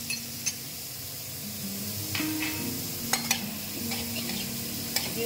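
Chopped onion and garlic fry in a pan for a Bengali banana-stem (thor) dish, a steady close sizzle with occasional sharp clicks of stirring against the pan and no talk.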